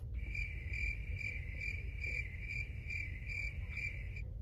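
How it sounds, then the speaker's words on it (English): Crickets chirp steadily in a high, pulsing trill, with a low rumble of background noise underneath. "Cue the crickets."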